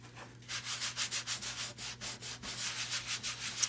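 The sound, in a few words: rubbing wax onto whitewashed wood furniture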